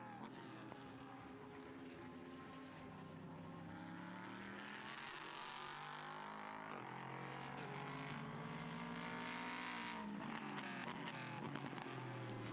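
Lamborghini GT race cars roar around the Slovakia Ring circuit during an ESET Cup 2023 race, their high engine notes rising and falling in pitch as they pass. The sound is loud and sustained throughout.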